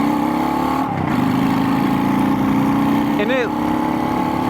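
Honda Shadow motorcycle engine and exhaust pipes droning steadily while riding, a loud continuous low rumble with wind noise, a rider talking over it throughout.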